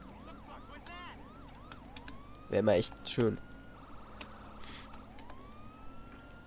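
Police siren from the police game mod LSPD:FR wails in rising and falling sweeps at the start, then a long steady tone continues under traffic noise, while someone speaks briefly over it.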